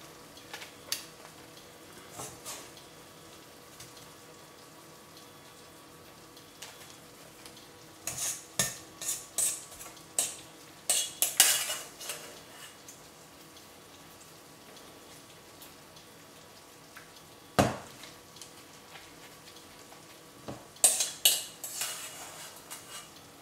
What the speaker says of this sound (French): On va les servir sur un plat, on égoutte un peu